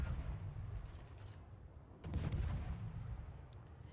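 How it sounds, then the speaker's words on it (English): Naval guns fire from a Shimakaze destroyer in World of Warships: a low, rumbling ambient battle bed, then one heavy boom of a volley about halfway through, mid-distance and moderately loud. "Now he takes some blind fire shots into the smoke and misses."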